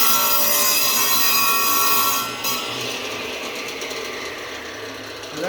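A saw trims the end off a wooden board for a mancala game board, giving a steady, loud rasping cut that runs the whole time and eases slightly near the end.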